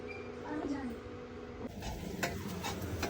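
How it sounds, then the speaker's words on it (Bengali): Mutton marinated with spices is sautéed in a pan alongside frying onions. Scraping and stirring sit over a soft sizzle, close by, with a person talking throughout. "এই দেখো কষানো চলছে"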